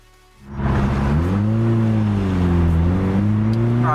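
A Toyota MR2 Turbo engine with a new exhaust revs up from idle into a loud, sustained throaty drone, pitch rising and dipping slightly as the throttle is held.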